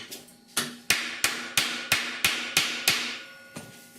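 A hammer strikes a metal edge flat on a rusted 1969 C10 core support patch panel, about ten sharp ringing blows at an even pace, close and loud with short metallic decay between hits.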